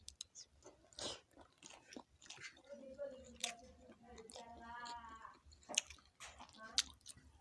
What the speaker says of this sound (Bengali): এখন ডাল দিয়ে ভাত খাই